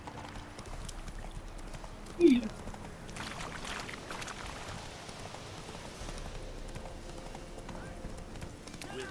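Horse hooves clip-clopping in The Witcher 3, a faint steady trot under soft rain-like ambience, with a brief louder blip and a person talking over parts of it.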